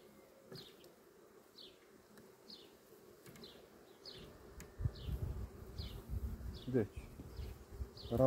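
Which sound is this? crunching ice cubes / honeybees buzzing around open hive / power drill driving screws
honeybees buzzing around open hive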